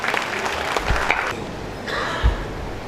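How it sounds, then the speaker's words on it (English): At an international convention of vice chancellors, an audience applauds guests of honor, a loud, dense burst of clapping in a large hall, lasting a few seconds with a couple of heavier thumps. "Can we have a big round of applause, ladies and gentlemen, for our guests of honor?"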